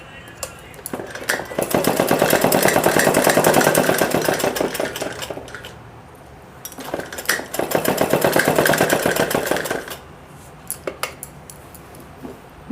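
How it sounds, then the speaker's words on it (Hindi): An electric sewing machine stitches along fitting marks on a girl's suit, running in two long whirring bursts with steady needle clatter, and brief pauses and clicks in between. "तो हम इस पर ही सिलाई कर देंगे, निशान पर ही सिलाई लगाएंगे।"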